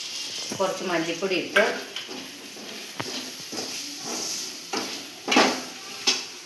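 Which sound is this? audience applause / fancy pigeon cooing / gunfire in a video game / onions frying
onions frying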